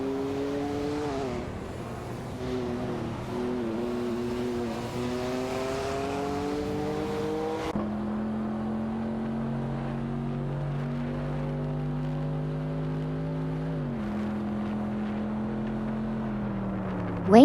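Simulated race cars, including a De Tomaso Pantera GT5S and a Porsche 959, droning with sustained engine tones that rise and fall through gear changes in a racing game, continuous and fairly loud.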